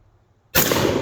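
A single sharp, loud rifle shot from a Foxtrot Mike M47 with its stock folded bursts out of near silence halfway through and rings on with a broad echoing tail.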